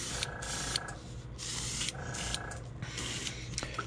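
An airbrush sprays thin brown paint onto a squarebill crankbait lure, giving a steady close hiss in repeated bursts of about a second each, with a constant low mechanical hum from the compressor beneath.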